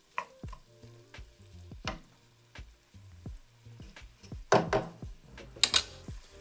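Minced garlic and onions frying in a pan, a quiet sizzle broken by repeated clacks and scrapes of a utensil stirring, with a few louder crackling bursts near the end and no talking.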